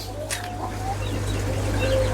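A mother hen with her chicks making a few soft clucks and low murmuring calls close by, over a steady background hum.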